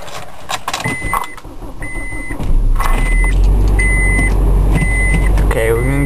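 A car stuck in snow revs its engine as it tries to drive out, with a loud low drone rising partway through under a repeating electronic chime.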